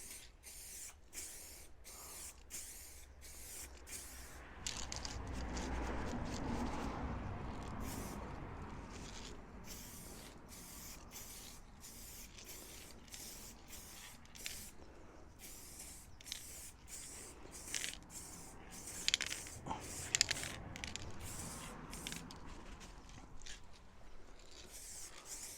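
Aerosol spray can hissing in repeated short bursts as camouflage paint goes onto a 1/6 scale Armortek Hetzer Jagdpanzer 38 model tank, with a longer steady spray partway through, close and fairly quiet.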